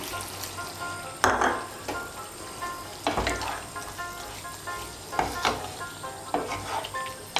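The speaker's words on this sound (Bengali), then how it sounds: "দুধটা মিশিয়ে নেব" Milk being stirred into sukto, a Bengali vegetable dish, in a pan: a steady soft sizzle with recurring scraping and clinking strokes of a spoon every second or so, close and clear, with no voices.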